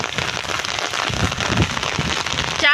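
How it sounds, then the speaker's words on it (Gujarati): Steady rain pours on a farm home in a rainy season, a dense, even hiss of drops hitting surfaces, close and continuous with no voices. "અમારા ઘરે વરસાદ આવ્યો હોય જો"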